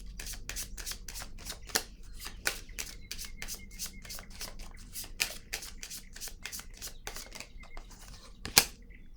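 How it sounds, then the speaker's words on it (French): Cards are drawn and handled from a tarot deck, producing close, repeated crisp flicks and slides with a few sharper snaps, and no talk over it. "Je vais piger une autre carte ici."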